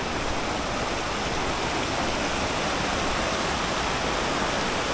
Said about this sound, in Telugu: వాటర్ ఫాల్స్ వచ్చేసింది.